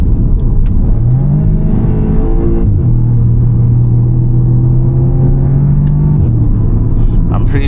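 A 2014 Audi S3 8V with a 290 PS engine and S-Tronic gearbox accelerates hard, its loud engine note climbing steadily, dropping at quick gear changes, then rising again in a continuous pull.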